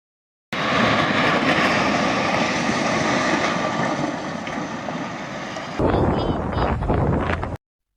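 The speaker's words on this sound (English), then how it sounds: "Plane crashes into an open field in front of stunned onlookers." A light airplane's engine roars loudly and steadily just before the plane crashes into an open field, with heavy wind buffeting the microphone. The sound shifts abruptly near the end.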